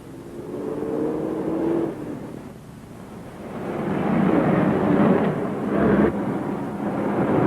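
A 1936-era car passes nearby, a broad rumbling engine noise that swells and fades over several seconds, with a brief tonal whine near the start and a steady low roar.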